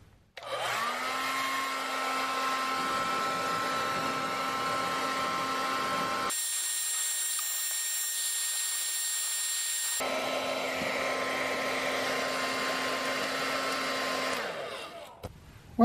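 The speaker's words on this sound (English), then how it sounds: "as I dry it with the hair dryer" A hair dryer blows on damp carpet, giving a loud, close, steady whirring whine with a constant pitch. It cuts out abruptly partway through, then resumes before stopping.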